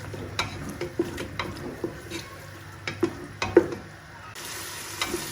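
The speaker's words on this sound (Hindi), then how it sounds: "चिकन को 4 से 5 मिनट इसमें अच्छी तरह से फ्राई करेंगे ताकि इसका कलर चेंज हो जाए" Chicken pieces frying and being stirred in a pan for turnip chicken curry, a close steady sizzle punctuated by a series of light spoon scrapes and taps against the pan, with no speech.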